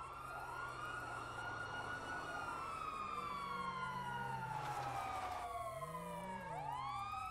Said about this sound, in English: Oh, siren sound.